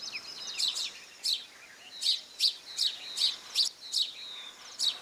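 House sparrows chirping while taking a dust bath, about ten sharp, bright chirps in an irregular series, fairly close, with no voices over them.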